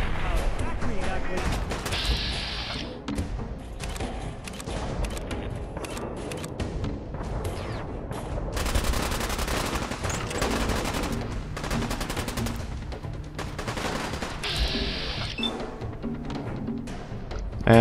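Repeated gunfire in Fallout 4 in a fight with super mutants near Diamond City, bursts of rapid shots and single cracks recurring across the stretch at close range, with voices talking over them.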